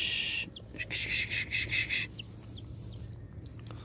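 Young chicks on a rooftop chirp in repeated short, rising peeps, some in quick bursts over a steady low hum, close and moderately loud with no talk.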